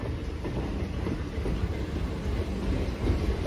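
A train rolls past at Munirabad station, a steady low rumble of wheels and cars running continuously at close range with no voices over it.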